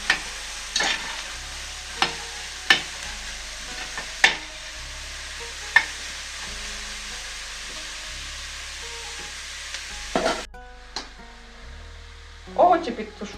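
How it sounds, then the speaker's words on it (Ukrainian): Filling for cheese-dough pies stews in a pan, giving a steady low sizzle broken by periodic scraping stirs and utensil knocks, close by with no speech. "І підтушковуємо ще трішки."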